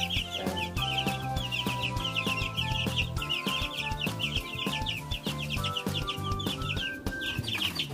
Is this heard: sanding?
no